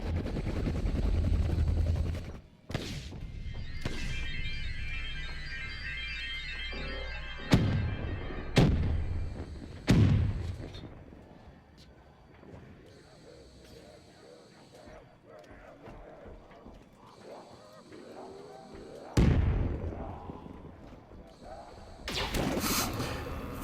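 Grenade explosions in Black Ops 3 zombies on the Moon map, several deep booms spaced seconds apart over a constant game hum, with a voice talking in between.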